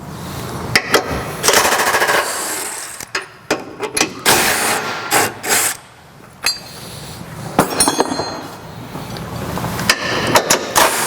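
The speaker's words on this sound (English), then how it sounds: "we'll also use an 18mm socket to remove the tow hooks on each side" A power tool driving an 18mm socket rattles in loud bursts, removing the tow hook bolts on a Ford Bronco, with short pauses and clinks between the runs.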